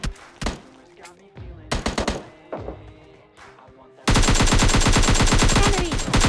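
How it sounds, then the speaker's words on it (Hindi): AKM assault rifle firing in PUBG Mobile Lite, with scattered single shots and short bursts before a long, loud, continuous stream of rapid automatic fire. "तो 3x लगाते हैं AKM और जहर शॉट देते हैं।"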